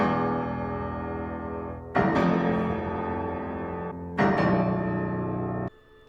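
A piece from the Batman v Superman score: sustained, dense orchestral chords swell in three stacked blocks, each attack sharp, then an abrupt cutoff to a faint tail.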